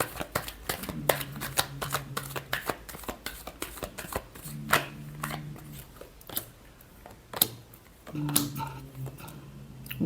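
Tarot cards shuffled by hand in repeated riffling bursts with sharp flicking snaps, close and fairly quiet, with a faint low hum in the background and no talking.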